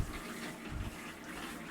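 Water splashes onto a dusty concrete hallway floor being wetted before a self-levelling cement screed is laid in an old house, giving a steady close-up hiss of pouring and spattering with a brief louder surge.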